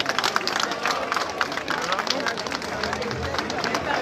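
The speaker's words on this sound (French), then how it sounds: "Je vous prie d'applaudir encore très très fort" A crowd at a political rally in Côte d'Ivoire claps continuously after a minister's speech, with dense, crackling applause mixed with crowd murmur and a voice speaking over it.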